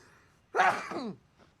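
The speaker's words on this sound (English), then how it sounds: "Oh, that was a big sneeze." A single big sneeze bursts out loudly and close in an otherwise quiet room, trailing off after about half a second, with no talking around it.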